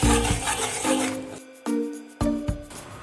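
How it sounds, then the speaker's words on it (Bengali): Spice masala with butter, oil and a little water is stirred and fried in a pan for an egg curry, with loud close scraping and rubbing strokes broken by short pauses and no talking. "অল্প পরিমাণ জল আমরা এতে অ্যাড করতে থাকবো আর মশলাটা কষতে থাকবো।"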